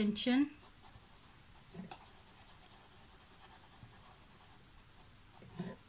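Pen scratching on paper while working a math exercise, soft intermittent strokes heard close but faint, with a brief voice at the start.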